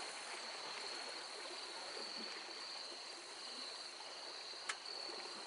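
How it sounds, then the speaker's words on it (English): The Buffalo River near the Rush ghost town flows in a steady, continuous wash at moderate distance, with insect chirps layered over it and a brief sharp tick near the end; no one speaks. "This is a beautiful river."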